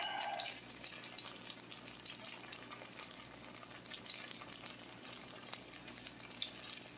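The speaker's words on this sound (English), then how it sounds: "these are all sizzling, so that's a good thing" Steady, dense sizzling of pinto bean fritters frying in a pan, a continuous crackling hiss with small pops, fairly close and without any talking.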